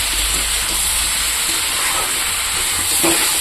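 Steady broadband sizzling from potatoes and tomatoes frying in a pan, a continuous hiss with no talking, moderately loud throughout.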